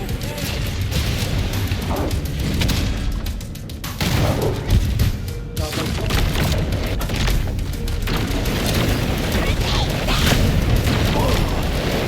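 Booming gunfire and explosive thuds fill a Halo Campaign Evolved combat scene, continuous and loud, with a player talking at times over the din.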